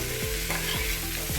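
Chuda matar, flattened rice with peas, cream and Maggi masala, is stirred in a hot pan, a steady close sizzle broken by three scraping strokes of a spoon.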